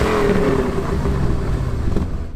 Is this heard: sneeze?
no